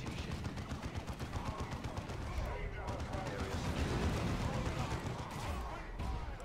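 Gunfire from a Xeno ambush in Dawn of War II, a continuous mix of rapid shots and heavier blasts with a voice over the din.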